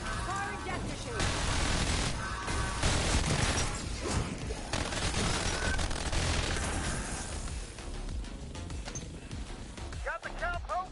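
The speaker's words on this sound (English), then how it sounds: "Firing death machine." A Death Machine minigun fires in a Call of Duty-style zombies game, producing a dense, continuous roar of rapid shots and blasts that runs for several seconds, with voices talking over parts of it.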